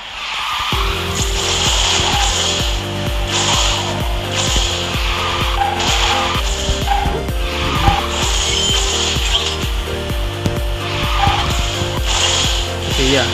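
A Renault car driven in the QQ Speed Mobile racing game: a steady engine drone with stepped gear-like pitch changes and continuous hissy tire skid noise throughout, loud and close, no talk.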